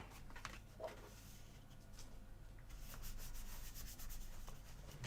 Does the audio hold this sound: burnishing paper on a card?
yes